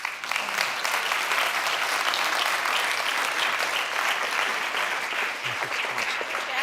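An audience claps steadily to welcome panelists at a school choice education event in Philadelphia, with a full, sustained round of applause running evenly from start to finish.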